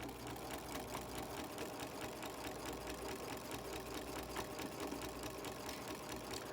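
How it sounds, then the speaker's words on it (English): A sewing machine stitches a practice seam, its motor humming in a steady, fast mechanical purr with rapid needle clatter, close by and continuous with no voices. "So 3 to 5 stitches forward, 3 to 5 stitches back, and then sew on down."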